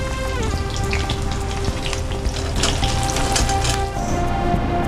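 Onions sizzle steadily in a hot pan during Indian home cooking of soya malai chaap, a continuous crackling hiss with scattered pops, close and fairly loud, with no voices.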